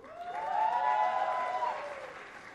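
Students applaud together at a film school convocation ceremony, a steady wash of clapping that swells, holds for about two seconds and then fades, with no voices over it.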